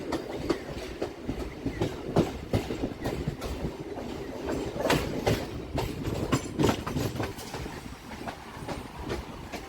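A Kolkata circular rail train runs on the tracks near Ballygunge Junction, entering the Sealdah–Sonarpur line, with steady rumbling and repeated clickety-clack of wheels over rail joints, close and continuous.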